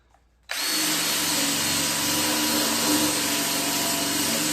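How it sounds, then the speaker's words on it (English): Heavy wire wheel on a power tool scrubbing rust off the seam of a steel lawn roller, starting abruptly after a brief quiet and then a loud, steady abrasive whine with a harsh scraping hiss, very close. "we're going to wire wheel this seam so we can weld it"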